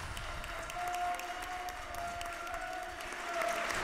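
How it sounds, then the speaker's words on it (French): The assembly at the end of a Holy Thursday Mass gives steady, sustained applause, a soft, even patter of many hands that continues throughout, with a faint tonal hum underneath. "les applaudissements,"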